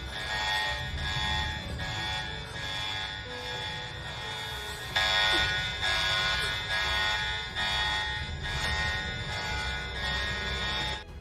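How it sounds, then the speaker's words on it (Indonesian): Several house alarms across a residential complex sound together in steady, pulsing high tones, overlapping at moderate volume with a low rumble underneath. "Tiba-tiba saja alarm semua rumah yang ada di komplek itu berbunyi."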